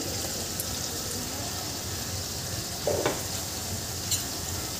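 Bitter gourd and potato bhaji sautéed in a pan, with a steady close sizzle throughout and a few brief scraping stirs of the spatula, with no talking.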